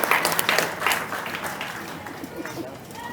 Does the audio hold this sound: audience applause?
yes